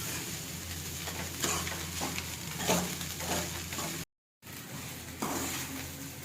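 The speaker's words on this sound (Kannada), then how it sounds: "ಅನ್ನ ಹಾಕಿ ಫ್ರೈ ಮಾಡತ್ತಾರೆ ನೋಡ್ರಿ." Cooked rice is stir-fried with a spiced tempering for chitranna, bringing steady sizzling and repeated spatula scrapes against the pan, with a brief dropout partway through and no talking.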